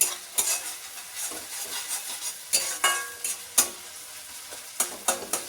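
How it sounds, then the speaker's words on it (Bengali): Spices and ginger-garlic paste sizzle in hot oil in a pan while being stirred, with repeated sharp scraping strokes of a spatula over a steady close frying hiss, for a Bengali lote fish dish. "ভালো করে ভেজে নিতে হবে।"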